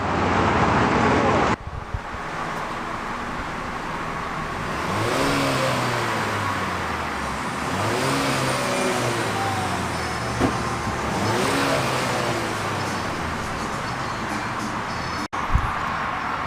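Cadillac ATS 2.0t turbo four-cylinder with its mufflers removed, revving in a few loud, rising and falling sweeps over a steady running drone, close and with no talk over it.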